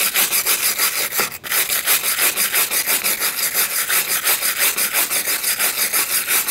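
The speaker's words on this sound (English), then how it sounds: "take a wire brush and just clean up any corrosion on here or any rust" A wire brush scrubs corrosion and rust off a Mini Cooper rear brake hub in fast, even back-and-forth strokes, loud and close, with one brief pause.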